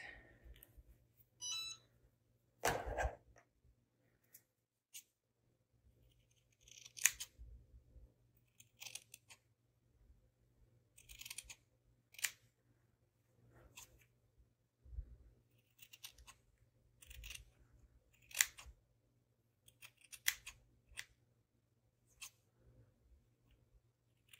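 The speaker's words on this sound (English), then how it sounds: "I might need to cut a little bit more off." Scissors snip fabric for the backing of a gold-collection stitched love ornament, producing sparse, quiet, close cuts and clicks separated by long silent gaps.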